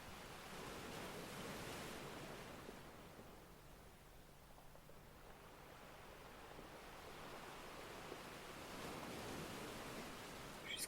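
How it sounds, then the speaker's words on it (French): Sea waves wash steadily onto the shore in a continuous broadband rush, swelling and easing slightly over several seconds, with no voices present. "À écouter les vagues, à admirer le coucher de soleil"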